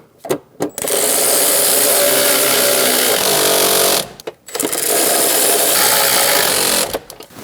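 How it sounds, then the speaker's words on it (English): Nuts on the battery bracket of a 2011-2023 Dodge Durango being snugged down: a loud, steady mechanical whir runs in two long bursts, separated by brief pauses and clicks. "Snug the nuts down."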